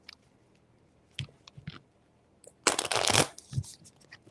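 Tarot cards shuffled by hand in a brief riffling burst, preceded by a few soft taps and card handling noises, close and fairly quiet with no talking.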